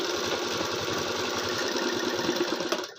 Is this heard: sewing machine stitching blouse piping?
yes